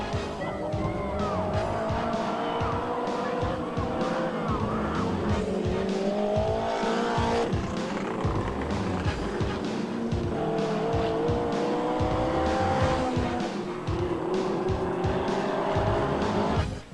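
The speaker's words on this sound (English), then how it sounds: "mini sprint cars. Powered by 1200cc engines" Mini sprint cars with 1200cc engines race around the Kihikihi Speedway dirt track, a loud continuous roar of several engines revving and shifting pitch with tyre squeal and skids throughout, no voices.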